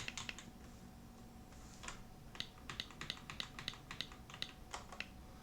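Quick bursts of keystrokes on a computer keyboard while a search is entered, uneven clicky taps in short runs, faint and close with no talking.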